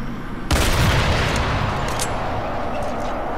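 Heavy gunfire from the mobile shooter game Sniper Fury, a sudden loud burst that turns into a dense, continuous roar of shots and booms, with faint sharp cracks rising in the background.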